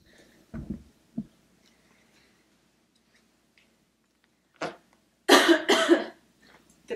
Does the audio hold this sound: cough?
yes